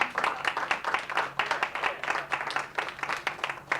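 An audience at a poetry reading gives a poet a continuous round of applause, with dense, moderately near clapping that stays steady throughout.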